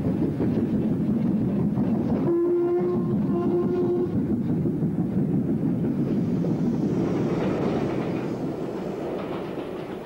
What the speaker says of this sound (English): The leading train comes past the box as the signalman looks out